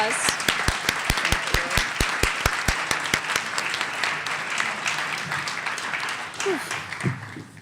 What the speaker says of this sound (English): I got her a bouquet of roses and a round of applause.